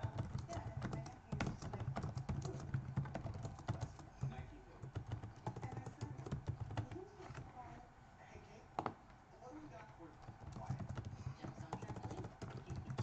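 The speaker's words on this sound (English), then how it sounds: "I am typing something out right now." Fast, uneven computer keyboard clatter runs steadily at moderate loudness, mixed with a broadcast of a live bowl football game in the background.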